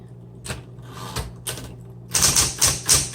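Close, crisp clacks of a 1970s Smith Corona Electra 120 electric typewriter, a few spaced keystrokes over a low motor hum, then a quicker run of bright metallic strikes.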